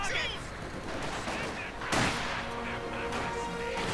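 A Company of Heroes 2 battle with troops holding a building under sniper fire: dense rattling gunfire runs throughout, a sharp loud crack stands out near the middle, and a commentator talks over the shooting.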